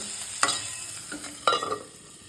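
Green chilli, garlic and cumin seeds slowly frying in a pan, with a few sharp scrapes and stirs against a low steady sizzle.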